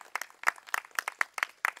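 Scattered rhythmic hand clapping from an audience at a Tamil debate show, a thin, fairly quiet run of claps at an even tempo, with no voices over it.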